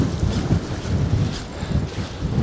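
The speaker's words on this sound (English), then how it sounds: "That wind's picked right up again since that tide started running." Strong wind buffeting the microphone at sea during a storm while fishing, a continuous loud low roar with gusty swells and faint water wash beneath, no voices.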